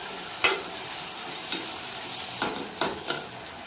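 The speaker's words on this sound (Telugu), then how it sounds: "చూసారా అండి, ఆనియన్స్ ఫ్రై అయ్యాయి కదా" Onions frying with turmeric and garlic paste for samosa filling, a soft even sizzle punctuated by several sharp spoon scrapes and taps against the pan, with no talking.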